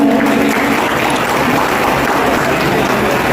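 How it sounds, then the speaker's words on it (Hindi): Steady applause fills a community health camp hall, a dense even wash of clapping from a gathered crowd that holds at a loud level throughout with no clear gaps. "ताली बजना चाहिए।"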